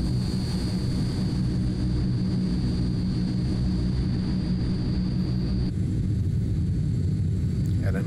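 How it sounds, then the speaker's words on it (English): Transall C-160 in Flight Simulator 2020 lowering landing gear and flaps, a loud constant turboprop drone with a steady high whine that cuts off partway, followed by a slight change in the engine tone. "Here we go, gear coming down. And here comes our first few notches of flaps."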